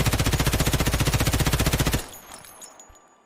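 Rapid automatic fire from a cheap, lightweight, compact gun in Escape from Tarkov, a loud, steady burst of about two seconds with evenly spaced shots that stops abruptly, leaving faint tails and clicks.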